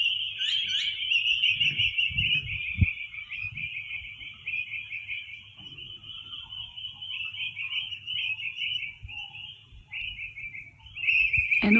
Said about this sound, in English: And also listen to the birds.